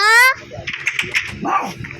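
A household dog gives one short, loud bark at the very start; people then talk over the rest of the clip.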